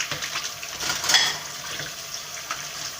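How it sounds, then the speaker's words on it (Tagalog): Spoons and cutlery being rinsed under a running kitchen faucet during dishwashing, with a steady rushing hiss of water and a few light clinks of metal against the sink, close and without talk. "Gawa na natin yung mga spoon at kubertos. sa banlaw naman."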